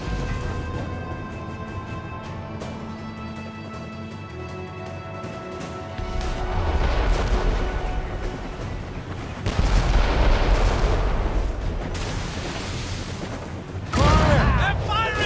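Ship cannons fire in Assassin's Creed Rogue, booming and rumbling in several heavy bursts over a noisy naval battle, with voices shouting in between.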